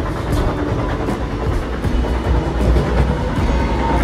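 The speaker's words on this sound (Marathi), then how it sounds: "ट्रेन आता कसारा घाटमध्ये एंटर करत आहे." A Mumbai–Shirdi Vande Bharat express runs on the rails as it enters the Kasara Ghat, giving a loud, continuous low rumble with faint rhythmic wheel clatter, heard from inside the coach with no talking.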